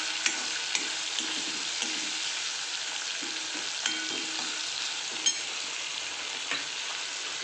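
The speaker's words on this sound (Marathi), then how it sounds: "कांदा छान परतला गेलाय। आता टोमॅटो पण छान फ्राय व्हायला पाहिजे।" Onion and tomato frying in a pan for Indian dal fry, a steady close hiss of sizzling with occasional soft clicks of a spoon stirring, no voices.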